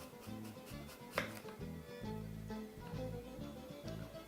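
A knife chops through apple slices on a cutting board, a quick series of close, crisp rhythmic knocks, faint overall with one sharper thud.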